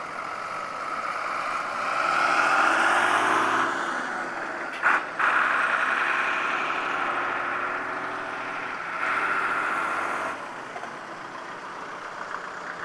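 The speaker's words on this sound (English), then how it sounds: "if you look at the Bedford O1, the horse box there coming out" A vintage Bedford O1 horse box lorry with a Perkins diesel engine pulls out at an outdoor vintage show, a low engine drone that rises and eases as it moves off, with a brief sharp knock partway through.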